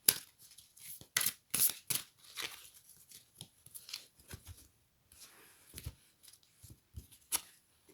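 Tarot cards being shuffled and drawn by hand, a series of quick close papery flicks, riffles and slaps in irregular bursts, fairly quiet with pauses between.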